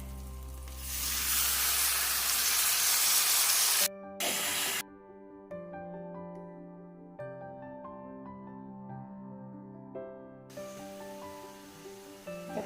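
Cleaned mutton liver hits a hot pan and gives off a loud, hissing sizzle for about four seconds. After the sizzle dies away, quieter sustained tonal sounds take over.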